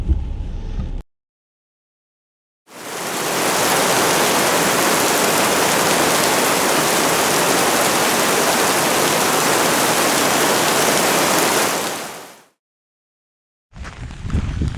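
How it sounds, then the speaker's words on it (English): Heavy, breezy rain pours down at the Longues-sur-Mer Battery in Normandy, a steady dense roar of water that holds for about ten seconds between short gaps. "Still pouring down, as you can see."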